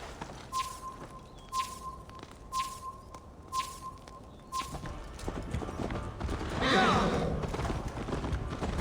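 Horse hooves clip-clop in Assassin's Creed Valhalla near Jorvik, several evenly spaced clops up front, then a denser rush of clatter and movement noise toward the end.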